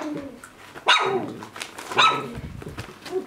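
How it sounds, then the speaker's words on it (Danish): Young puppies growl and bark in short, sharp bursts, close by and fairly loud, with softer whimpering and yips in between. "Nu er der nogen, der knurrer"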